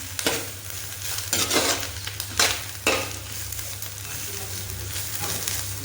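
Vegetables stir-frying for homemade noodles, a steady close sizzle with repeated scraping stirs at an uneven rhythm, no voices.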